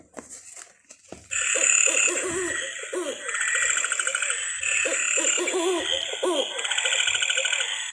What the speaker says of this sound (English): That was an owl, wasn't it?